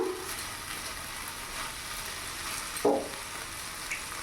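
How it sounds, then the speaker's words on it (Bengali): Egg bhurji mixture stirred in a hot pan, a continuous low sizzle and fry with soft scraping of the spoon, one brief louder clink partway through, close and moderately quiet. "ভালো করে নাড়াচাড়া করে মিশিয়ে নিলাম।"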